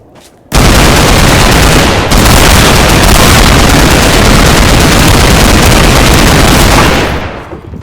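Dense, loud gunfire erupts after a brief quiet opening, a continuous rapid barrage of shots lasting several seconds before tapering off, with no talking.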